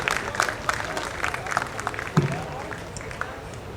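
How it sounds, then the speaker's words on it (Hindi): Scattered clapping from a crowd at a Shri Krishna festival event in Patna, welcoming a guest onto the stage; uneven and somewhat thin, with crowd murmur and brief voices mixed in. "जोरदार तालियों से पाटलिपुत्र की इस नगरी में उनका स्वागत करें"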